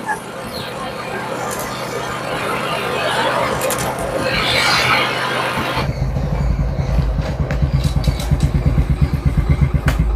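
A second-hand motorcycle rumbles along on a ride, its engine note rising and changing midway as it pulls through, with wind noise and someone speaking over it.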